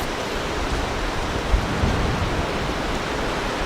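Steady wind blowing across an early-season campsite, a loud continuous broadband rush with slight gusting bumps and no voices.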